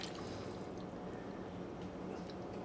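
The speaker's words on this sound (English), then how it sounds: "Now, when you've got the thing about as full as you want it, add water." Water pours steadily into a pressure cooker packed with turkey pieces for stock, a faint, continuous rushing splash with no break and no talking.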